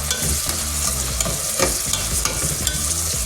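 Tomatoes frying with onions for kudra curry give a close, steady sizzle, with rhythmic stirring scrapes and clatter in the pan throughout.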